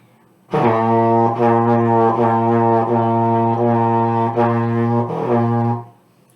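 A trombone plays a held pitch broken into a series of lightly tongued repeated notes, smooth and connected, for several seconds.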